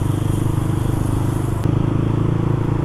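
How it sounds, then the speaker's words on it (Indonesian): A Japanese motorcycle in bosozoku style revs steadily and loudly up close, a continuous throaty rumble with a brief shift partway through. "kalian bisa dengar motor itu digeber-geber untuk menghasilkan sejenis nada musik"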